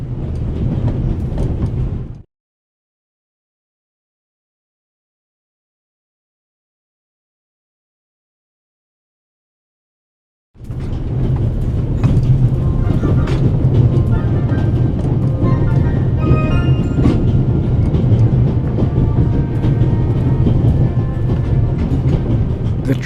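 A train travels in the video game The Raven Remastered, a steady low rumble with rattling carriage noise that starts after a brief opening sound and a silent gap, continuing loud to the end.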